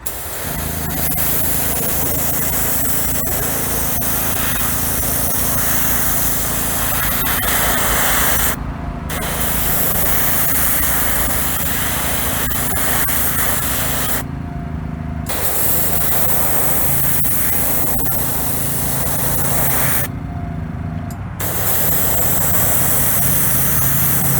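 An airbrush sprays a wet coat of House of Kolors paint in a steady, loud hiss broken by three short pauses where the trigger is released, close to the listener.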